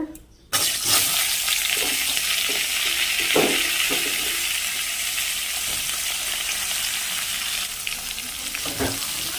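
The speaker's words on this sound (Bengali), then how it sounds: "বন্ধুরা এবার একটু নাড়িয়ে দেবো ভালো করে খুন্তি দিয়ে এবার একটু ভাজা ভাজা হবে" Bata fish frying in a pan while a spatula stirs it, a continuous loud sizzle broken by scraping knocks at intervals.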